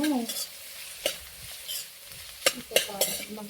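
Two large chopped onions fry in a pan for Mangalore egg drop sambar, sizzling softly while a utensil stirs and scrapes, with a few sharper clinks against the pan near the end.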